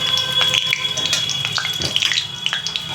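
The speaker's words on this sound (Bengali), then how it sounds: "এবারে আমি তেলটা গরম হয়ে গেছে, তেজপাতাটা দিয়ে দিলাম" A bay leaf dropped into hot oil in a pan, sizzling and crackling steadily with close, bright spits and pops.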